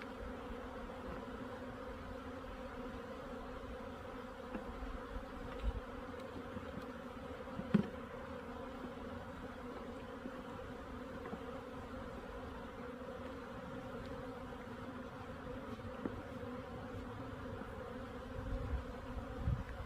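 Honeybees buzz steadily during the shake-down split of a beehive, a constant low droning swarm close by with slight fluctuations and a few faint knocks, no talking.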